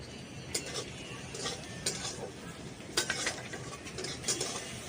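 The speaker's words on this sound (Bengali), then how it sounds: "এইখানে পেঁয়াজটা দিয়ে দিয়েছি একটু হালকা করে ভেজে নেবো" Chopped onions frying lightly in a pan for poha (flattened rice pilaf), a soft steady sizzle with intermittent clinks and scrapes of a spoon stirring against the pan.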